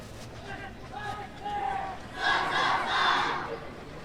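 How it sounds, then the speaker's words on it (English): An ultimate frisbee team at an ultimate frisbee final shouts a group cheer in unison, the chant swelling louder toward the end with a crowd around. "Beautiful cheer there by SIM."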